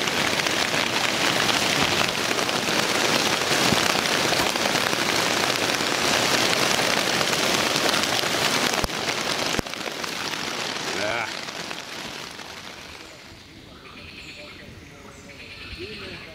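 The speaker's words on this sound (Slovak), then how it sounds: "Nevidíte, že ti prší na kameru?" Rain patters on a camera and its surroundings during a boat trip down the Little Danube river, loud and dense at first, then easing and thinning toward the end.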